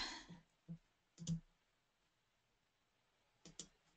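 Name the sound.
computer mouse clicking a download button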